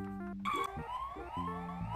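Cartoon ambulance siren from the Putt Putt Joins the Parade video game, a bright wavering tone rising and sweeping over a bouncy musical backing, fairly loud and continuous throughout the short stretch.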